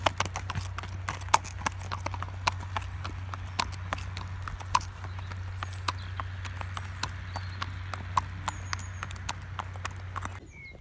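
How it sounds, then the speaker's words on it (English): Clip-clop of a horse's hooves during a hack out at Hickstead, steady regular footfalls close to the microphone over a constant low hum, with no talk. "So I'm out hacking Faye"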